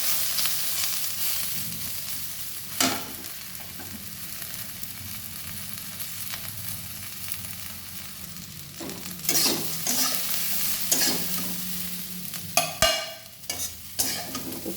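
Garlic, onion stalks and flat beans stir-fry in a pan with a continuous sizzle, broken by repeated clanks and scrapes of a utensil that come more often and louder toward the end.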